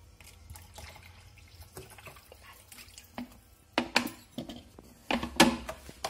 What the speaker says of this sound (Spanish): Una vez que esté todo bien batido, le echamos un poco de agua